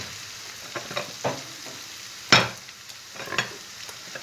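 Mince for a winter moussaka frying and being stirred in a pan, a soft steady sizzle broken by a few scraping stirs and one louder clatter near the middle, close and alone.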